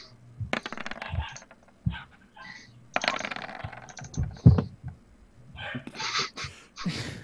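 Dice rattle and clatter across a table during a tabletop role-playing game perception check, in several quick bursts mixed with nearby voices and some laughter.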